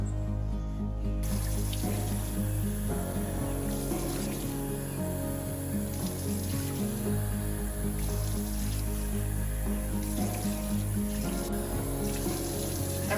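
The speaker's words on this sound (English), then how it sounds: "I've rinsed all the shampoo out." Tap water runs steadily in a sink while shampoo is rinsed out of a reborn doll's long hair, a continuous close splashing stream with small shifts in flow.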